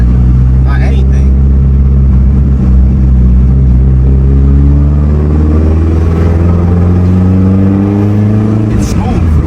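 Mitsubishi Evo 8 engine running smoothly while driving on the road, a loud close steady drone with gradually rising pitch as it accelerates, people talking over it.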